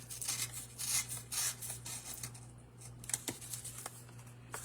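A craft blade slicing pieces of card for handmade Christmas cards, close, quiet rhythmic scratchy strokes repeating in short bursts, with a few small taps and no talk.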